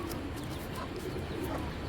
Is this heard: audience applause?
no